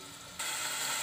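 Marinated meat fries in a pan after its liquid has cooked off, and a sudden loud hissing sizzle starts partway through and keeps on steadily.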